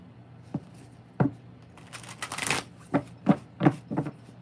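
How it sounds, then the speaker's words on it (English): Tarot cards are shuffled by hand in a series of crisp papery riffles and slaps, with a longer rushing riffle in the middle and several sharp separate snaps after it. The sound is close and moderately loud, with no talking. "you see me shuffle the cards"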